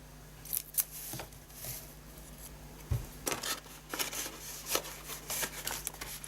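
Scissors trim the top off a paper gift bag for a reed diffuser in a quiet indoor crafting setting. Several crisp snips come close up with short pauses between them, along with soft paper rustling and no voices.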